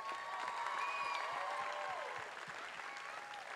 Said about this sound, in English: So you guys get a round of applause.